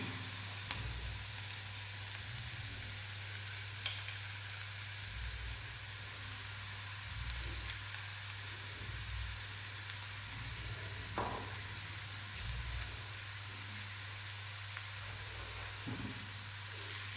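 A pumpkin stir-fry sizzles faintly in a pan while it is stirred. Soft scraping comes in brief bursts over a steady hiss and a low hum.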